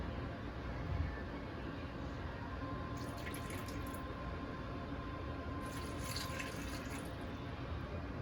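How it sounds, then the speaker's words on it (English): Water pours into a baking pan for curry chicken wings, a steady trickling stream with two brighter splashing bursts, close and fairly quiet. "Now we're going to go in and add our water."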